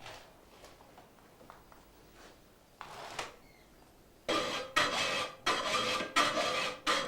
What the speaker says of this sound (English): First, he does a rough filing. This determines the blade's frame.